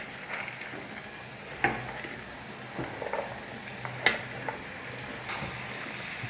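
Pieces of bottle gourd are tipped into a pan and stirred, giving a soft continuous sizzle with several sharp scraping and clinking spoon strikes against the pan.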